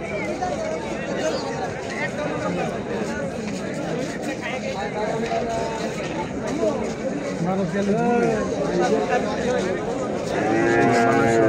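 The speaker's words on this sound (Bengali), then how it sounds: "বানাসুয়া বাজার খুব সুন্দর সুন্দর গরু আছে দেখেন।" Cattle at a village cattle market low and moo repeatedly, close and loud, over a steady murmur of crowd chatter and people talking throughout.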